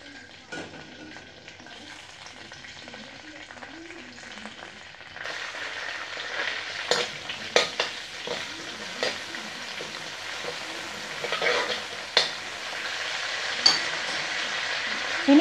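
Curry leaves hit hot coconut oil for a beef fry, and the quiet pan jumps into a louder crackling sizzle, with sharp clinks and scrapes of a stirring spoon popping out repeatedly over the frying.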